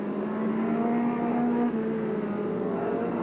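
A 1984 F2 stock car races past at Skegness Stadium, a loud, steady engine drone with a slight pitch shift as it goes by, heard alone without talk.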